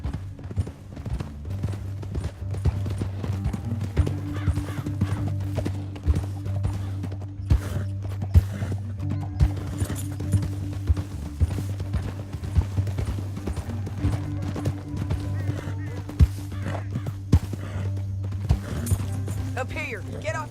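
Continuous clip-clopping horse hooves in Red Dead Redemption 2 at a steady trotting rhythm, with a low droning music bed underneath, no talking.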